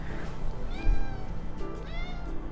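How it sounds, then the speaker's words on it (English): A cat meows a few times in the background, faint and drawn-out, with two or three separate rising-and-falling calls. "that's my cat in the background"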